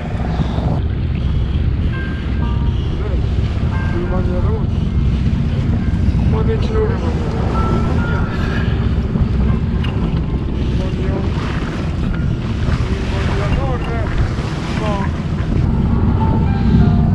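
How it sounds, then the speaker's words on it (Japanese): Strong wind buffeting a microphone aboard a sailboat at sea, a loud continuous low rumble with water and hull noise beneath, and people talking faintly in the background. "風強かった"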